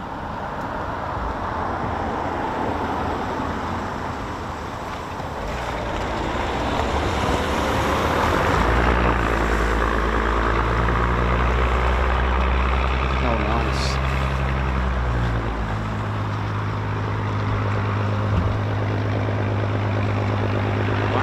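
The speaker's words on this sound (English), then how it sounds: "Sounds like a Spitfire." A Spitfire's piston engine drones overhead, building from a distant rumble into a strong, throbbing, tonal growl through the middle before easing off, with traffic-like background noise and occasional talk.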